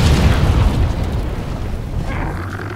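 A Mega Barrel Bomb from Monster Hunter detonates in a single loud, deep boom whose rumble fades gradually over the following seconds.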